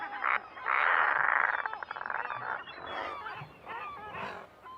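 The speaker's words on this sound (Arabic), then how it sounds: "تبدأ في هذه المرة بمناداة الصغار بصيحات عالية" Atlantic puffins calling loudly to their chicks two weeks after hatching, a run of harsh, honking calls that swell strongly over the first seconds and then repeat in shorter bursts, close and without voices.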